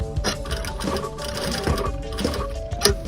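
A sewing machine stitching a buttonhole, whirring steadily at close range with a rapid, even needle rhythm and no talking.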